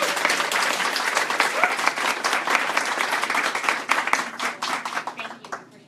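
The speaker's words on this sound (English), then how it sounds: "Let's give them one more round of applause." A large audience applauds together in a steady, dense burst of clapping that holds for several seconds before thinning out at the end, following a community sharing event in a neighborhood setting.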